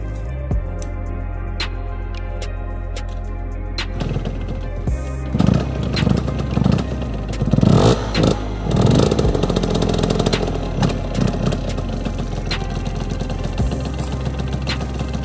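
A motorcycle engine cranks and fires up from cold, settling into a rough idle before several sharp, loud revs that rise and fall in the middle, then drops back to a steady close idle.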